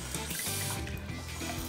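Water poured from a container into a pot of rice, a steady splashing trickle heard close up for under two seconds with no talk.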